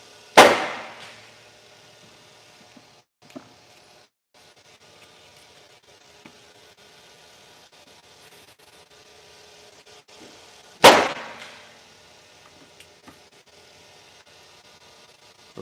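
A 9U youth player hits baseballs with a bat indoors, giving two sharp, loud cracks about ten seconds apart against a quiet room with faint background sounds.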